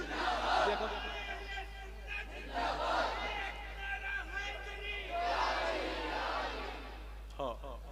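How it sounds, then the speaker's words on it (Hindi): A crowd at a religious gathering chants slogans in unison, swelling in loud repeated bursts with pauses between them, and a leader's voice is heard in the gaps. "नारों से इस्तकबाल कर ले"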